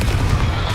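Confringo blast spell cast in Hogwarts Legacy: a brief, loud, thick burst with a heavy low rumble, gone in under a second.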